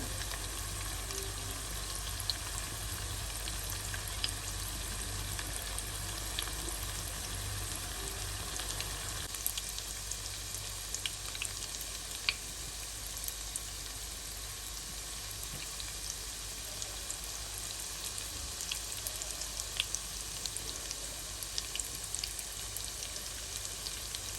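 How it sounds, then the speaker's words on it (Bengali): Food frying in oil over slow heat gives a steady, even crackling sizzle that continues unbroken throughout, close by and with no talking. "স্লো হিটে এগুলোকে আমি ভেজে নিব।"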